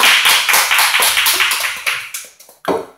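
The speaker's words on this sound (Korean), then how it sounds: "몇 분 안 되시면 박수 좀 크게 쳐주세요." Teacher-training lecture audience in a school clapping after a Q&A session, loud close rhythmic claps from a small group that thin out and stop in the final second.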